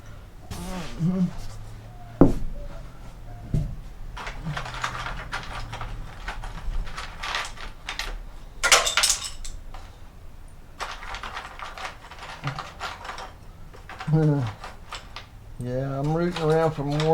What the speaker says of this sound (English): I'm rooting around for more short screws.